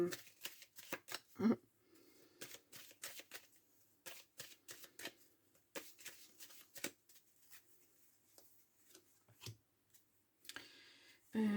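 Tarot cards are shuffled and dealt onto a surface, giving repeated crisp riffling snaps and soft slaps in irregular bursts, close and fairly quiet, with a few brief spoken words mixed in.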